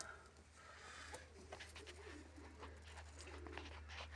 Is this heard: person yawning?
no